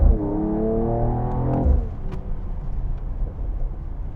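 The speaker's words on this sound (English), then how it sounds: "I just love how I'm still able to hear that exhaust" A Mercedes-AMG E53 convertible with a performance exhaust accelerates from inside the cabin: a steady droning engine tone rises for about two seconds, then settles into a rough, noisy rumble with faint crackles.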